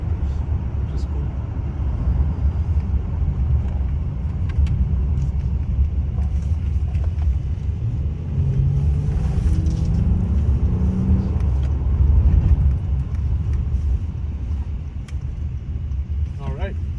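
A 2019 Acura MDX A-Spec SH-AWD three-row SUV cruising at high speed gives a steady, loud low road and engine rumble that swells slightly mid-way, heard from inside the cabin with someone talking over it.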